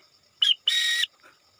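A referee-style whistle sounds one short blip and then one longer steady blast, spelling the Morse letter A as dot then dash, close and clear with no talking.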